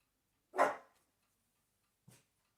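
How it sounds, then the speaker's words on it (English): Single dog bark close by, followed after a pause by a second, fainter yip; no talking in between. "Sorry for the dogs."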